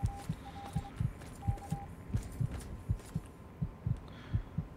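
A repeating Morse code radio signal in the Fallout 3 video game: a thin steady beeping tone in short and long pulses, sounding twice, over a low rhythmic throbbing pulse.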